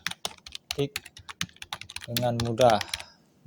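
Rapid keyboard clicks tap along under a person speaking, continuing steadily throughout.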